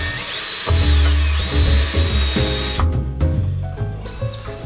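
A power drill whirs loudly in short bursts into plastic particle board, its motor pitch rising and dropping as it bites in, with brief pauses and clicks between runs.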